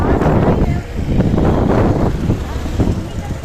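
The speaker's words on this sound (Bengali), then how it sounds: "এখনও রোদ আছে তবে হাওয়া দিচ্ছে" Gusty wind at Chennai's Marina Beach on the Bay of Bengal buffets the microphone with a low, rumbling roar that swells and eases without pause.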